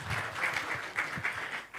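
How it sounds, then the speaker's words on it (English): Audience applause after a keynote at a digital health symposium, a steady wash of clapping over nearly two seconds with faint voices mixed in. "Can we please give him another round of applause?"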